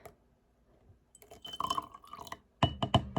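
Red cabbage water poured from a container into bleach in a glass, starting quiet then turning into clear splashing, dripping liquid with a burst of close, sharp pours near the end.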